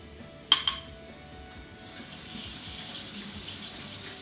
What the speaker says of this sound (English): You do want to rinse off that spoon because that does stick really bad if you don't do that right.